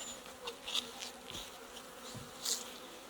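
Bees buzz faintly around an opened hive during an inspection, with soft, uneven hums and a few brief louder passes of individual insects close by.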